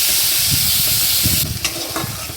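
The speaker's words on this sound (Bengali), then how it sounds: "5 ফোড়ন একটু তেলে দিয়ে পেঁয়াজ বাটাটা দিয়ে দিচ্ছি" Five-spice and onion paste fry in hot oil for a fish dish with bottle gourd greens, a steady broadband sizzle with stirring scrapes close by, loud and continuous with no talk.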